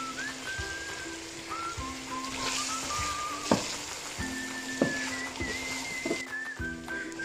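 Meat and carrots fry in hot oil in a pan, giving a steady close sizzle with small pops and crackles. Faint whistling tones run in the background, and no one speaks.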